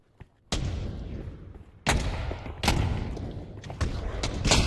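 Bazooka blasts in the Pavlov VR gun game mode, four loud booming shots spaced a second or so apart, each with a sharp onset and a long rumbling tail, with no talk over them.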